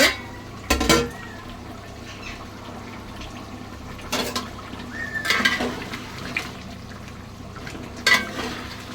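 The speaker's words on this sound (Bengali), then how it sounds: "মাংসটা দেখুন আমার ফুটছে।" Mutton boiling in a pot for biryani, a low steady bubbling simmer broken by a few loud metallic clanks of a lid or spoon against the pot.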